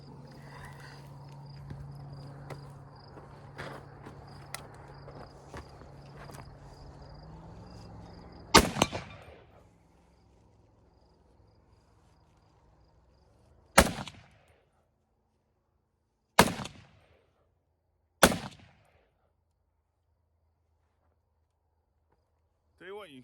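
A Remington Woodmaster 742 semi-automatic rifle in .308 fired at an outdoor range, sharp loud single cracks spaced a few seconds apart after quieter handling noises and a faint voice.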